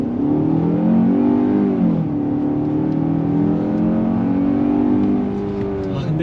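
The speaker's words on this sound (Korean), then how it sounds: "풀악셀." A Hyundai Grandeur 2.5 gasoline sedan accelerates at full throttle, its engine note rising steadily and dipping at a gear change before climbing again, loud and continuous from inside the cabin.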